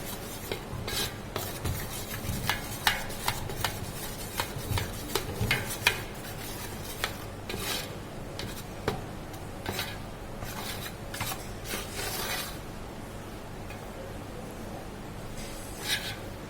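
Besan being stirred into melted ghee in a pan, giving a steady run of soft scraping and rubbing strokes, close and fairly quiet, with no voices over it.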